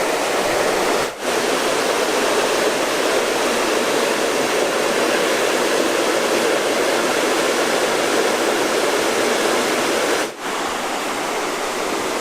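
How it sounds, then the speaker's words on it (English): A spring where a river bursts from the bottom of a bluff gives a loud, steady roar of rushing water, close and continuous, unbroken by anything else. "I don't think I've ever seen a river just jump out of the bottom of a bluff"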